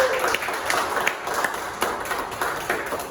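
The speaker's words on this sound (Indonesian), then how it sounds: "saya berikan tadi tepuk tangan tolong teman-teman untuk narasumber kita, Bang Reza dan juga Kalvin." Seminar audience on digital privacy applauding the speakers, a moderate burst of clapping that rises and falls over a few seconds with some scattered louder claps, no talk over it.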